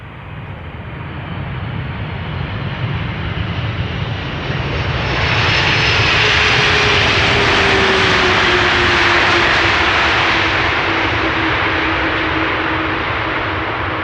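Atlas Air cargo jet landing at Amsterdam Schiphol, a loud continuous engine roar that swells and brightens into a broad rushing whine as the plane passes, with a steady low drone underneath and no voices.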